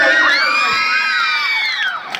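A packed college annual day audience cheers and whistles loudly, with sustained high whistles and shouting voices filling the hall for about two seconds without a break.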